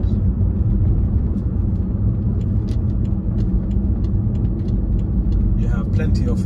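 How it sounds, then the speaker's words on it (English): A 2012 BMW M5 engine runs with a steady, loud low rumble from inside the car on a test drive, continuous throughout with no clear revving. "As you can see, the engine sounds beautiful."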